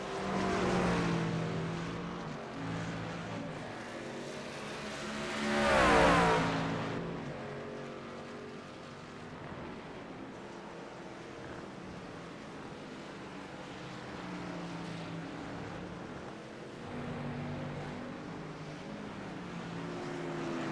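Race truck engines roar in a truck series race at Watkins Glen in a racing video game: a layered, droning engine drone with one loud truck swelling past, then a steady field of engines running on.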